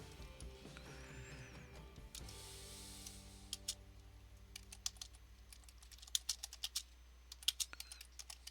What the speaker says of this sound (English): I'm typing out some to